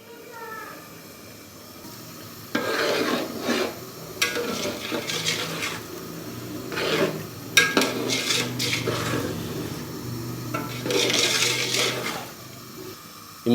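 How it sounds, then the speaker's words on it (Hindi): Tamarind pulp and chili sauce being stirred into chicken korma in a large commercial pot, with metal spoon scrapes and clanks coming in bursts at close range. "इमली और चिली सॉस डालने के बाद अच्छे से मैंने इसको मिक्स कर दिया है"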